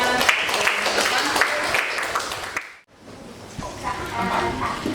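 Students in a classroom applaud classmates with a burst of mixed clapping that dips into a brief lull before fainter clapping resumes, a voice speaking over it.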